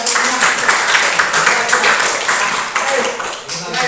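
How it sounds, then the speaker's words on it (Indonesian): A room of teachers at a good-practice sharing session in Jambi claps for a speaker, with sustained, fairly loud applause and voices mixed in. "Iya, tepuk tangan kita."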